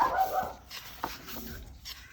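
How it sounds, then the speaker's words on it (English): A dog gives a short high whine and a couple of yips close by, with muffled background noise around it. "Ignore the dog."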